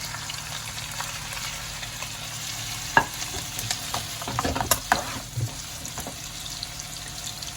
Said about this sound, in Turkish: Yağım çok güzel kızdı. Hiçbir özeni yok. Ciğerlerimizi veriyoruz abi.